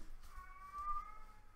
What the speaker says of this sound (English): I have to look at the cat.